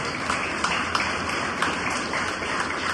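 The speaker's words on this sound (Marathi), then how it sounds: "टाळ्या वाजवा की." Applause from an audience at a Marathi business-guidance talk, a steady dense wash of clapping that carries evenly through the whole stretch with no voices on top.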